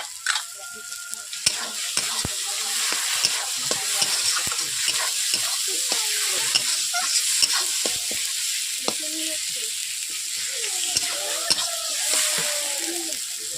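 Cumin and coriander powder frying in hot oil for a katla fish kalia, a steady close sizzle with repeated scraping stir strokes throughout.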